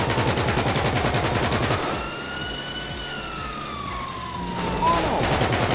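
A minigun mounted on a car fires at police in GTA 5, a rapid, dense burst that cuts off after two seconds, followed by a loud wailing police siren sweeping up and down.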